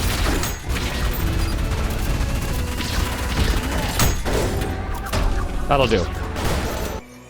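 Rapid weapon fire from the fast-paced shooter ULTRAKILL crashes and booms in dense bursts throughout, with sharp impacts and whooshes over a loud game mix, while someone talks briefly.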